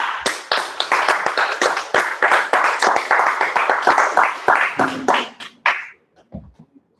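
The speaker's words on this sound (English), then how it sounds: "let's go ahead and clap it up" A small group claps in close, crisp bursts with rhythmic, uneven hand strikes for about five seconds, then it thins to a few scattered claps and a brief voice before quiet.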